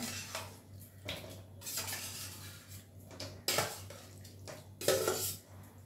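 Pots, dishes and metal utensils clatter in a home kitchen while rice cooks and curries are reheated, with sharp intermittent clanks and scraping spaced out over a quiet background, no talking.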